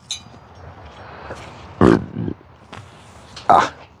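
A couple of short, guttural burp-like grunts from an animal break through rustling and low background noise, one loud burst near the middle and another near the end.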